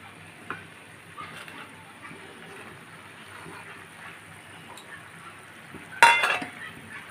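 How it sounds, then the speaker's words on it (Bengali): Vegetables with peas for a soybean vegetarian curry, stirred and fried in a pan: a quiet, steady sizzle with soft scraping, and a sharper clatter of utensil on pan near the end. "মটরশুঁটি দিয়ে আমি ভালোভাবে নেড়ে চেড়ে একটু ভাজা ভাজা করে আবারও ঢেকে রাখব"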